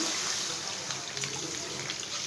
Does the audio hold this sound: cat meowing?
no